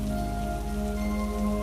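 Rain falls steadily at night in a horror cartoon, a dense, even hiss of drops with faint sustained tones beneath and no voices.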